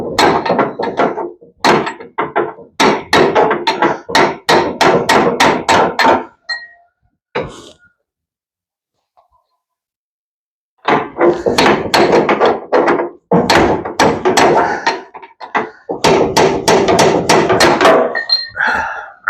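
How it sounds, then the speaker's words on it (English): Heavy hammer blows strike a Farmall Super M tractor's alternator in rapid bursts of sharp metallic thunks, then a few seconds of near silence before the pounding resumes, loud and close. "I wonder if a smaller hammer would work. Because this one's getting heavy."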